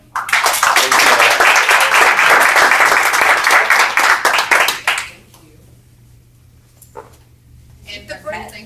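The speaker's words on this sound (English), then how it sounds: "one more round of applause" Meeting audience at a Portland Human Rights Commission session breaks into loud, dense applause for about five seconds, then it cuts off abruptly, leaving a quiet room with a low hum and a few faint sounds.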